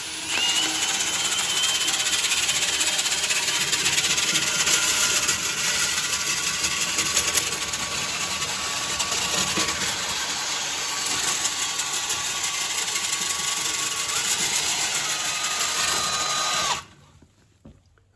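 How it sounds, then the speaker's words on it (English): A drill spins a rotary brush on rods pushed up the flue of a Morso wood burner, giving a loud steady whirring and scraping rumble that runs continuously, then stops abruptly near the end. "just turn it on and push the rods up the chimney"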